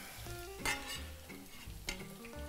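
Peppers sizzle in a pan while cooking for a putanesca pasta sauce, a steady close crackle with a couple of louder bursts as they are stirred, alongside faint tonal background sounds.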